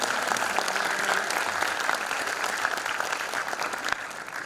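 An audience at a Punjabi literary talk on Guru Nanak's travels bursts into sustained applause, a dense, even wash of many hands clapping that carries through the whole stretch without talk.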